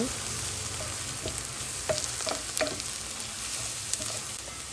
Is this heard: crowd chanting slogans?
no